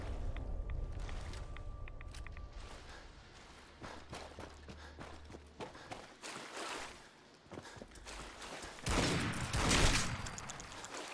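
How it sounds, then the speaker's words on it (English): Gunfire in modded Fallout 4 with Far Harbor in survival mode: scattered sharp shots and bursts, some distant and some closer, mixed with footsteps and thumps, ending in a louder cluster of blasts. "And I just shot the person who has a name."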